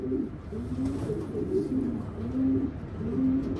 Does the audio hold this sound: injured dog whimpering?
no